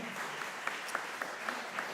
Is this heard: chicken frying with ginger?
no